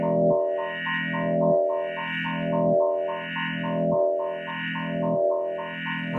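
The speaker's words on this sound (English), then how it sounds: "if I take that and come out of a twisted waveform generator with a more complex sound, such as this, and put it into the same patch" A Buchla 296e spectral processor shapes a complex waveform from a twisted waveform generator into a thick, distorted, chorused synth drone that pulses in a slow repeating cycle of swelling bursts.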